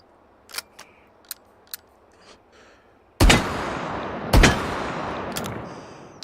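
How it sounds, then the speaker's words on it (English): Shots from a double-barrel coach gun in the VR shooter H3VR. Several small clicks and taps come first, then two loud, sharp blasts about a second apart, each trailing off into a long ringing echo. "Can't have a Old West movie without a double barrel coach gun."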